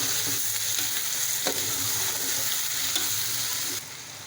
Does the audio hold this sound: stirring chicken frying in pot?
yes